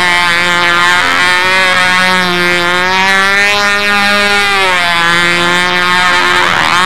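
Model control-line stunt plane engine running on 5% Power Master glow fuel, a loud, close, steady high-pitched buzz whose pitch rises and falls slightly, alone with no talk.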